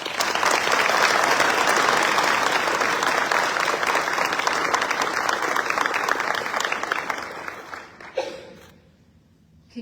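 An audience applauds scholarship award winners at a Fort Cavazos family scholarship ceremony. The clapping is loud, dense and sustained for about eight seconds, then fades quickly to near silence, with a few last claps at the end.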